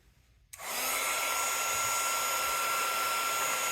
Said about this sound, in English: Heat up my gun.